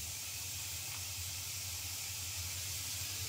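Chopped onion fries in oil with salt added, giving a continuous, even hissing sizzle that holds steady throughout with no pauses or voices.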